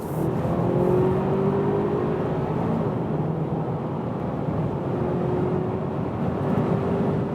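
An Audi A4 45 TFSI in dynamic mode pulls hard from 90 km/h, its engine a steady loud drone heard from inside the cabin, rising slowly in pitch over a constant road and wind roar.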